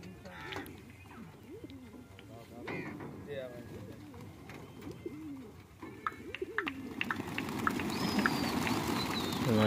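Pigeons coo and call at a high-flying pigeon race tournament in Pakistan, the birds' soft cooing running steadily under voices talking nearby, with outdoor noise growing louder toward the end.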